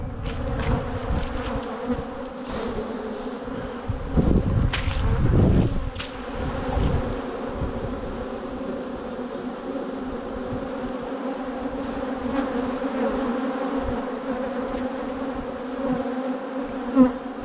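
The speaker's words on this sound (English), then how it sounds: "you can find young bees on the frames, the wax they build in" Steady droning buzz of many honey bees on hive frames close by, continuous throughout with a brief louder swell near the middle, no voices.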